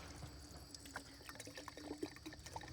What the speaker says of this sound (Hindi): बहुत तेजी से पानी निकल रहा है